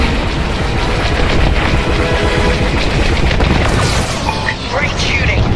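Dense, continuous barrage of rapid blaster fire and booming impacts from starfighters in a Star Wars Squadrons space dogfight, loud and relentless throughout with radio chatter mixed in.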